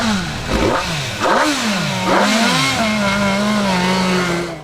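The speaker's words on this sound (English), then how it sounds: "This bike was the F4 1000R 312" MV Agusta F4 1000R 312 motorcycle engine revving hard, three rising throttle blips climbing into a sustained high howl, loud and close with no talk.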